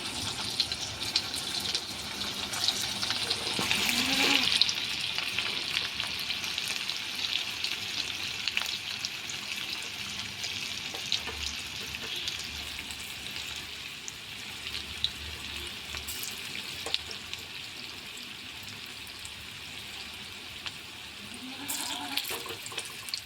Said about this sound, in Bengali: এক সাইড ভাজা হয়ে গেছে আরেক সাইড উল্টিয়ে দিচ্ছি লাল হয়ে গেছে